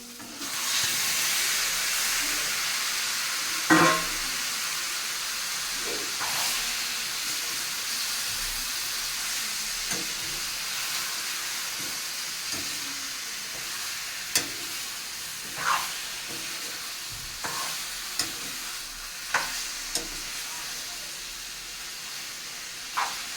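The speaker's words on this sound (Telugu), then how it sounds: "ఉల్లిపాయలు టమాటాలోనే చికెన్ వేపుతాము బాగా" Chicken fries with onions and tomatoes in a pan, giving a continuous hissing sizzle with occasional sharp clacks of a spoon stirring, close up and with no talking.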